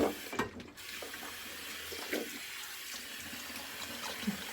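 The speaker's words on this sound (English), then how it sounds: "now I'm just going to rinse off after that first pass." Tap water running and splashing into a sink during a wet shave rinse, a steady faucet stream with a few brief splashes, close by and fairly quiet, no talking.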